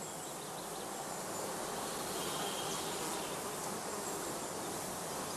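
Bees hum at a heather skep apiary, a dense, continuous outdoor drone held at an even level throughout.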